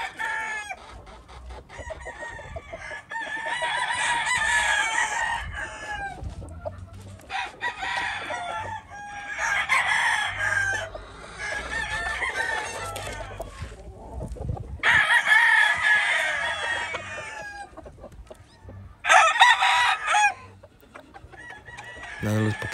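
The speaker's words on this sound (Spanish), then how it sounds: "Muy finos, muy finos todos estos gallos." Cowan game roosters crow repeatedly in a farm yard, several loud drawn-out calls from nearby birds overlapping with clucking, with occasional faint talk in the background.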